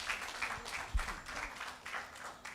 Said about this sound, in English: Children, clap for yourself.